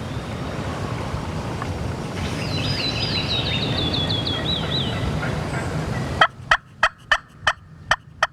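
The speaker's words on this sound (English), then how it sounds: "That's 4 or 5 birds gobbling right then." Several wild turkeys gobbling in southern woods, a warbling call rising over steady wind and ambient noise, followed by a run of sharp, evenly spaced loud knocks near the end.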